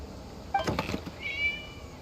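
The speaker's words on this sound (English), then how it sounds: "It was just a cat." A cat meows once in Genshin Impact, a short, fairly clear mew rising and trailing off over quiet game ambience.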